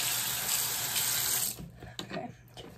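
Tap water runs steadily into a sink while a face mask is washed off. The flow stops after about a second and a half, followed by a few faint knocks and splashes.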